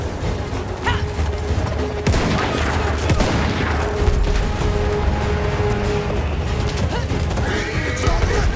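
A horse whinnies in the Battlefield 1 video game amid dense, continuous battlefield noise of gunfire, explosions and crashes, the neigh partly buried in the steady loud din.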